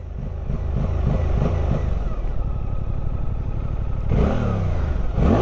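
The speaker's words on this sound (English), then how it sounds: "Now I've let the revs off, I can rev in neutral." A Suzuki GSX 8R motorcycle engine revs in neutral with a soft limiter, a steady loud rumble that climbs in pitch near the end in two sharp rising surges.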